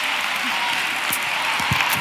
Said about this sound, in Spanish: Chicos, un aplauso fuerte